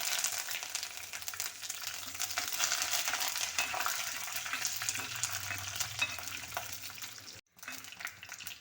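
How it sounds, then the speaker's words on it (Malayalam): Fenugreek seeds splutter in hot oil as dried red chillies and curry leaves fry, a close, continuous crackling sizzle with light stirring that cuts out briefly near the end and then resumes. "ഇപ്പോൾ നമ്മൾ ആ ഉലുവയൊക്കെ പൊട്ടിക്കൊണ്ടിരിക്കുകയാണ് അപ്പോഴത്തേക്ക് നമുക്ക് വറ്റൽ മുളക് ഇട്ട് കറിവേപ്പില ഇട്ട് കൊടുക്കാം"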